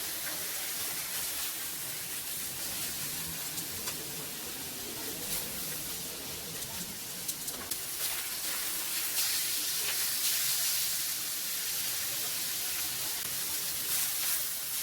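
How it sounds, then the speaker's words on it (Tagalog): Chicken fillet frying in a pan greased with butter: a steady, close sizzle and hiss running throughout at even loudness, with no speech. "Isunod ko ng prito ang ating chicken fillet."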